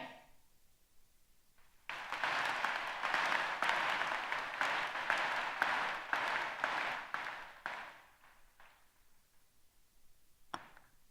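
A high school graduation audience claps for student speakers in a burst lasting several seconds, then fades to scattered claps and quiet, with one late sharp clap.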